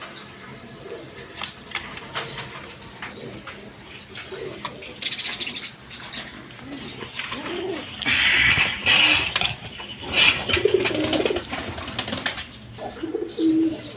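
Imported pigeons, among them a pair of Chila pigeons, coo and rustle nearby, with repeated bursts of flapping wings and high chirps over a low background murmur.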